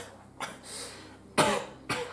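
Coughing from someone choking on dust, three sharp close coughs with gaps between them, the last two louder, alone without talk.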